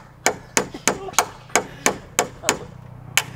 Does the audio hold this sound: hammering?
yes